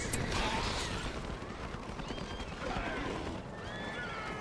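Cavalry horses neigh amid the din of a battle in The Battle for Middle-earth II, the whinnies thin and partly buried under dense, continuous clashing noise.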